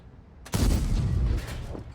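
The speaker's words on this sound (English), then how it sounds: "Good shot on the T10." A tank cannon fires in World of Tanks, a sudden heavy boom followed by a rumbling decay and a second fainter crack, loud and close with no voice over it.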